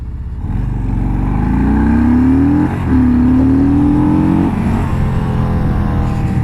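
A 2022 Harley-Davidson Street Bob (FXBBS) motorcycle accelerates hard in second gear, its loud, close engine rising steadily in pitch, dipping briefly at a throttle change, then climbing again before holding.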